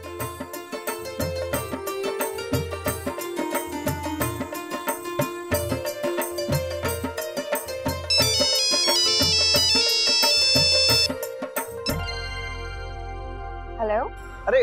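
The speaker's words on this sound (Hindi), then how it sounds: "भाभी माँ, मोहित का फोन है।" A mobile phone ringtone plays a repeating electronic melody for over ten seconds in a household scene from a Hindi TV drama, with a brighter, busier passage near the end before it cuts to quieter sound.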